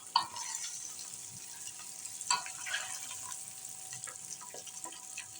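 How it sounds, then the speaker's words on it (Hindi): Eggs frying on low heat in a pan for a dhaba-style egg and pea curry, giving a steady soft sizzle with a few sharper spatters and clicks of stirring, close and moderately quiet, with no one talking. "और हल्की आंच पे ना ये अंडे आपने भून लेने।"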